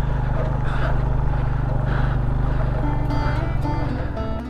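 Motorcycle with a loose chain labouring up a steep road near Balakot, its engine a steady low drone throughout, shifting in pitch toward the end as it climbs.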